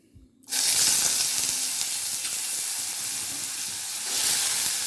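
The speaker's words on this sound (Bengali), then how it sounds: "এবার একে একে আমি আলুগুলো এর মধ্যে দিয়ে দেব কড়ার মধ্যে" Potatoes dropped into hot oil in a wok burst into a loud, steady sizzle after a brief quiet start, with the frying hiss holding strong and close throughout.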